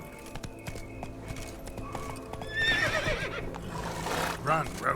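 Roach, a horse in The Witcher 3 video game, gallops with steady rhythmic hoofbeats and lets out a whinny, under quiet game ambience and a faint voice.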